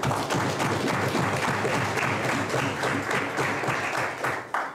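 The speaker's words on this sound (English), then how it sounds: "I want you to give yourselves a round of applause" An audience at a national youth parliament applauds its debaters, a full, even round of clapping that holds steady and then tapers off abruptly near the end.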